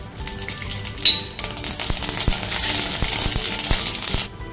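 Mustard seeds splutter in hot oil in a heated kadhai as a tempering starts, a dense run of close, sharp crackles and pops after one brief louder snap.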